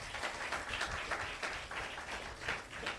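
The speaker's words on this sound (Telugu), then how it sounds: "చప్పట్లు కొట్టండి సార్." Congregation clapping at a Telugu Christian church service, a dense, steady wash of hands in a rhythmic pulse that stays at an even, moderate level throughout.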